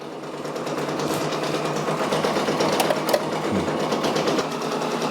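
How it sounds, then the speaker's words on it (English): A Brother Persona embroidery machine stitches a patch with a fast, steady mechanical chatter of needle strokes, continuous and close, its rhythm holding evenly with slight shifts in pitch. "And we are just embroidering today."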